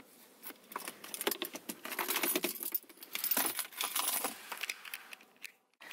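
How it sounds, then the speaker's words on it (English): A bunch of car keys for a Honda CR-V jangles and clinks close by, a run of bright metallic rattles and taps over several seconds, ending in quiet. "These are my keys."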